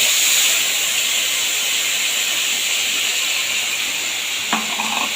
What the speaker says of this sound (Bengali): এবার ওই তেলে আমি ফোড়নে দিয়ে দেবো কালো জিরে আর বেটে রাখা মশলাটা